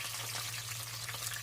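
Garlic and green chillies fry in a clay pot in a steady, soft, close sizzle with small crackles and a low hum underneath, no talking.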